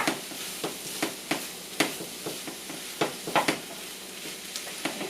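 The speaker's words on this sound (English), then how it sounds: "add in my tomatoes so that it starts giving flavors of everything else. So they all start marrying together. And we'll stir this around" Tomatoes and other vegetables sizzle steadily in a pan during home cooking of a healthy meal, with frequent sharp scraping stirs punctuating the frying hiss; close, moderately loud, no talking.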